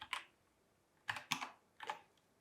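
Faint, sparse keystrokes on a computer keyboard, a few isolated clicks in a quiet room with no talking.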